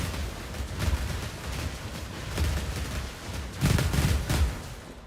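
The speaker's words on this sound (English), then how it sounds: "Sounds like a firecracker?" Void shockwave skill blasts in a video game, a string of crackling firecracker-like bursts that swell in three loud waves over a steady, dense rumble.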